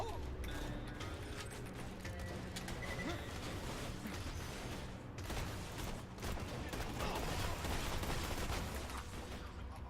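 Rifle fire in the shooter game Borderlands 2 rattles on densely and continuously, with mechanical clanks and crackling shots blended into a loud, unbroken wash of battle noise.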